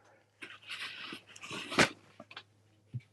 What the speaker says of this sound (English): you'll hear my dogs barking in the background